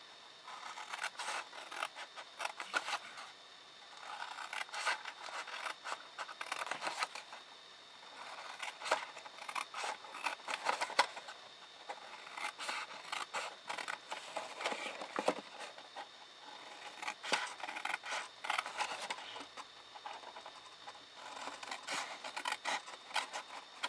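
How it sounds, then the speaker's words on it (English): Scissors or a blade cutting through sections of a scored paper gift box, heard as soft, close scraping and rasping strokes that come in repeated bursts with short pauses. "you're going to cut up each of the sections at the bottom"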